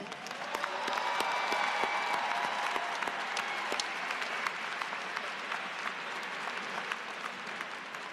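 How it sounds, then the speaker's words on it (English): Sustained crowd applause at the 2025 FSU Fall Commencement, a broad, even wash of many hands clapping in a large hall, steady and moderately loud for the whole stretch. "Could you please give them a round of applause?"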